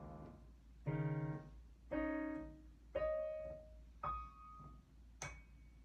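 Piano notes struck on the groups of two black keys, five separate dyads rising up the keyboard, each ringing briefly and decaying before the next, clear and close in a quiet room.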